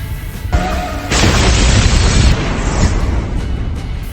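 An office blows apart in a film scene, a loud broadband blast that kicks in sharply and rumbles heavily for a couple of seconds, then trails off into lingering debris noise and low roar, with no voices.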